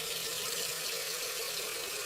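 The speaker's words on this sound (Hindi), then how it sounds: "चलिए अब इसे पानी से धोते हैं।" Water runs steadily over old rusty tools being rinsed after a chemical rust remover, a continuous hiss of splashing for about two seconds with no talk.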